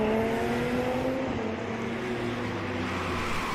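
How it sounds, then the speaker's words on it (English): GT race cars at the Red Bull Ring sweep through the first corner, a steady loud engine drone with rising and falling pitch as several cars pass close together. "Following Antonin Herbeck and the other cars through the first corner again"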